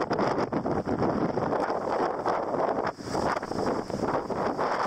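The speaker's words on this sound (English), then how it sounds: "up on deck, we're greeted with gale conditions" Gale-force wind roars across a sailboat deck in the North Atlantic, a loud, continuous rush of wind and buffeting on the microphone, with no talk.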